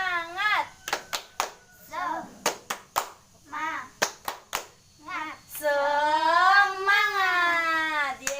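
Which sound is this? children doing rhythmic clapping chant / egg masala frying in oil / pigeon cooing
children doing rhythmic clapping chant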